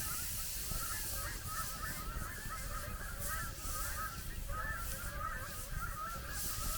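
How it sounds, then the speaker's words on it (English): Geese honk repeatedly from a distance along a Lake Huron shoreline, a chorus of overlapping calls over a steady wash of outdoor background noise. "Look at the geese."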